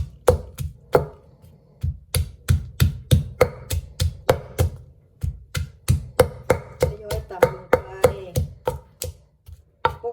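Steady rhythmic pounding of chili and shrimp paste in a mortar, sharp close thuds repeating for about ten seconds with brief pauses, no talking.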